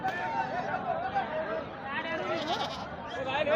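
Goats bleat repeatedly and loudly at a busy village sheep and goat market, with overlapping calls against a background of crowd chatter and nearby voices.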